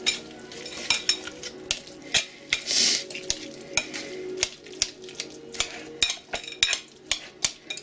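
A knife and fork mash a chunky mixture with garlic and salt in a bowl, giving repeated irregular clicks, scrapes and soft squelches at close range with no talking.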